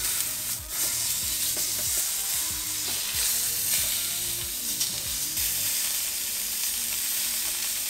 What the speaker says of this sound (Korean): 이런 식으로 모든 면을 한번 구워줍니다.